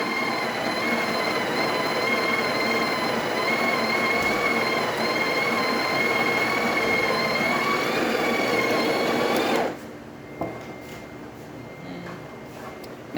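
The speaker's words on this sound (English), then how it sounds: "Then we're gonna be using the steamer." A Breville Barista Touch espresso machine roars steadily for about ten seconds as it runs its steam wand, then cuts off abruptly. Quiet knocks and handling noises follow the hiss.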